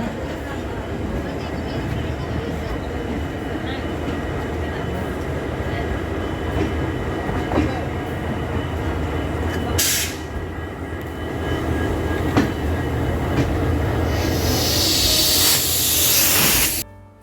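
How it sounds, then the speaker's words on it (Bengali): A Howrah to Puri sleeper class train rolls along at night with a steady, loud rumble and rattle heard from inside the carriage, a voice faintly under the noise and a brief hiss near the end. "ফাইনালি 12টা 10 নাগাদ আমাদের ট্রেন স্টার্ট হলো।"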